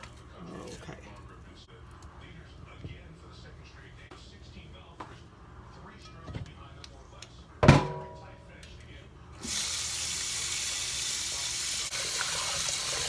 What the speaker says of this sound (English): I always wash any kind of meat because it's been packaged and everything. Wash it off with some cold water